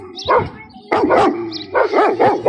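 Several puppies bark and yip in short, close bursts, with gaps between volleys, at a backyard breeding spot in Dexter, Missouri.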